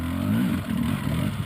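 A 300cc enduro motorcycle ridden on a muddy competition track, its engine chugging steadily at low revs, close and loud, with a brief dip in the middle.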